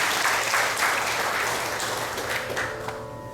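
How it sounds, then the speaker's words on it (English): An audience in a Shiva Mandir bursts into applause for an auntie's 70th birthday, a dense, steady clapping that fades slightly toward the end. "Give her a nice round of applause."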